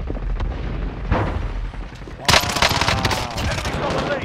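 Rapid automatic fire from a sentry gun in Warzone, a steady rattling stream of shots that swells into a louder burst of heavy gunfire, with people talking over it.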